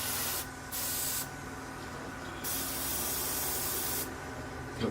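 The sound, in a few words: spray painting parts of a Tamiya Sherman tank model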